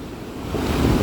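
Fast, ice-cold water rushes at the top of the Lower Falls waterfall, a loud, steady roar that builds slightly toward the end, with wind buffeting the microphone.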